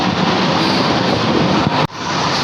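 A light rail train passes close by at LRT Buendia, a steady broadband roar of wheels on rail with a brief dip near the end, no voices.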